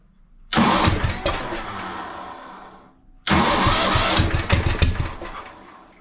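A rare tractor engine cranks and catches twice, each time roaring up loud and close before fading and dying back, with a short silent gap between the two starts and no talk.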